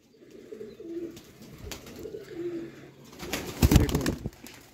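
Champion flying pigeons kept by fanciers coo in soft, repeated low throaty phrases, fairly close, with a louder burst of wing flutter and bustle near the end.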